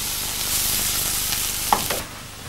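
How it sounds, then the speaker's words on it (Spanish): Chopped onion, leek and carrot sautéing in a pan, a steady close sizzle of frying vegetables that softens toward the end. "lo dejamos que se reahogue bien, que se cristalice la cebolla, el puerro"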